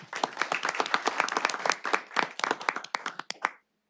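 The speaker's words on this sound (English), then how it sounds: "One more round of applause." A round of applause at a board meeting: a modest group clapping briskly for a few seconds, close and dense at first, then thinning into scattered claps before stopping abruptly.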